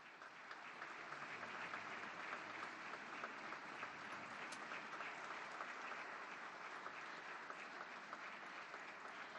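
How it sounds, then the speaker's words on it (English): Steady, sustained applause fills Clementine Hall as Pope Francis arrives, a dense even roar of many hands heard from a distance, faint and continuous. "We hear a round of applause for the Holy Father as he arrives."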